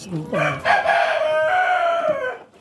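Rhode Island Red breeder chickens in a breeder cage, one rooster letting out a loud, close crow that rises and holds for about two seconds, preceded by short clucks, with no speech.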